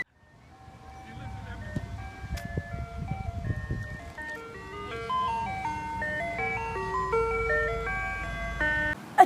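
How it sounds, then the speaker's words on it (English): An ice cream truck plays its chiming tune, the jingle's notes rising clearly over a low vehicle rumble and growing somewhat louder as it goes on. "I wish for the truck with the music to come now."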